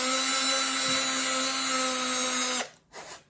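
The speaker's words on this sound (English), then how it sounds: "Using this Black & Decker with a really small drill bit, and try to find a hole here." A Black & Decker power drill fitted with a very small bit whines steadily and loudly for over two seconds, then cuts off abruptly, followed by a brief faint rustle.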